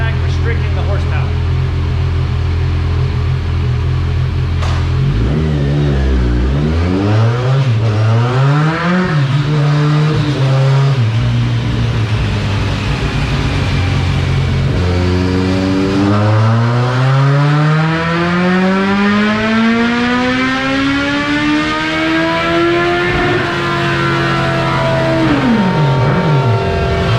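A Kawasaki Ninja 1000 motorcycle with dual exhaust and a restricted ECU roars through a baseline dyno pull, revving up through the gears with rising, sweeping engine tones, loud and close throughout.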